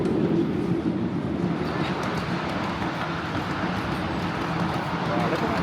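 A small miniature railway train rumbles along steadily with a continuous low rolling noise, close by, while people talk over it, at Isfield station.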